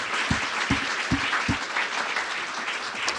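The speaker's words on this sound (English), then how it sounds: "let's give a round of applause." Audience applause after a panel talk, starting with a few distinct sharp claps that quickly merge into a steady, moderately loud round of clapping from the crowd.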